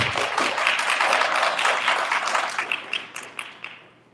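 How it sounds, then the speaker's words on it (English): An audience at a political forum applauds, dense clapping that holds strong for a couple of seconds before thinning to a few scattered claps and fading out. "Yes, you can clap."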